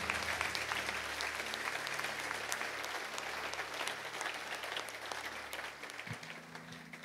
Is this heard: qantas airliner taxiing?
no